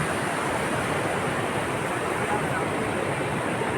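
Steady, loud rush of a river flowing in Kerala, a continuous broadband roar with no pauses, close by.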